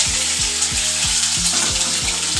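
Fish fat frying in hot oil gives a steady, close sizzling hiss with a faint rhythmic pulsing underneath, with no talking.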